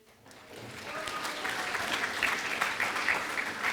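Audience applause for an award winner at a senior breakfast ceremony, clapping swelling in after a quiet start and holding steady, many hands in a room.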